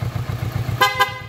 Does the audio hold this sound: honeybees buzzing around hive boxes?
no